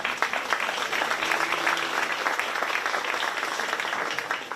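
A crowd claps loudly at a 4-H market beef cattle show at a county fair, a dense, sustained burst of applause lasting several seconds without speech.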